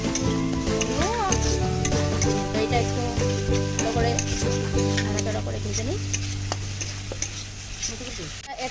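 Spice paste of onion and chilli paste sizzles and is stirred in a pan for a coconut prawn curry, a steady loud frying hiss with scraping strokes and background music tones throughout.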